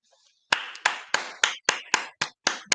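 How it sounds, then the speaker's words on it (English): A small audience claps in eight sharp, evenly spaced bursts at close range, each hit crisp and separate, with no talking over it. "Clap for the heavyweight champ."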